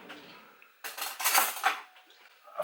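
Metal cutlery rattling and clinking in a kitchen drawer or pot while a tablespoon is searched for, a quiet start then a burst of close, jangling rummaging that fades, with a short clink at the end.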